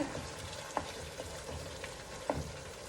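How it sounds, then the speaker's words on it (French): Deconstructed stuffed pepper mixture bubbling and frying in a pan, a quiet steady sizzle with soft pops and a couple of clinks from stirring. "Alors, ça bouillonne bien mon affaire."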